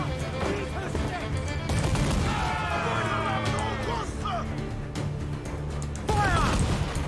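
Ship cannons boom in a naval battle in Assassin's Creed IV: Black Flag, heavy blasts and crashes over churning noise, with shouted voices on deck under the fire.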